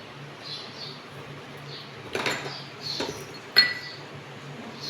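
A spoon clinks against a bowl a few times while soda and salt are stirred into a bhajiya batter, with sharp metallic taps over a quiet room and a low hum.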